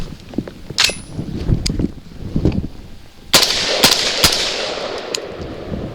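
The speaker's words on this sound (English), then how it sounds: "And now we're going to be shooting at our steel because this is lead." A Genesis Arms Gen 12 shotgun fires lead shot at steel targets: several loud, sharp blasts come in an irregular sequence, each with a short ringing tail, and no one talks.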